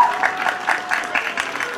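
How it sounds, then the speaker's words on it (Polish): Audience applause for a young girl singer at a children's song studio concert, a short burst of steady clapping from a room of listeners, moderately loud and continuous. "a my, proszę państwa, brawa!"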